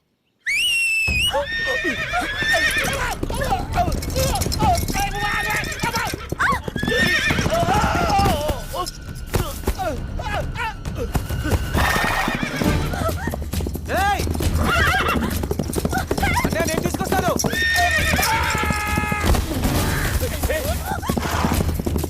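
A horse neighs loudly while hooves clop rhythmically through a lively film scene, with crashes and music-like bursts around them, and voices talk over parts of it.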